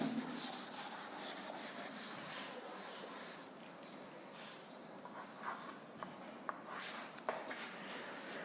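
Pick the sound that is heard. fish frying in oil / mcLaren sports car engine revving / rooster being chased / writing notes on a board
writing notes on a board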